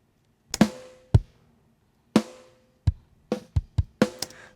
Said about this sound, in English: Also kick and snare together.